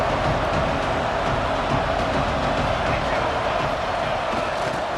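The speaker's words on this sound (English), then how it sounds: "The Red Raider crowd rising to the occasion to help its defense on 3rd down" Stadium crowd roaring steadily at a Texas Tech Red Raiders home game in EA Sports College Football 26, a dense, loud wall of cheering on third down that holds throughout with no break.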